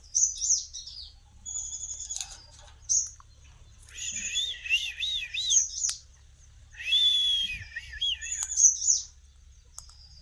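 Shrill, squawky parrot calls come in several bursts, some warbling and whistled, with quiet pauses between and a low background rumble.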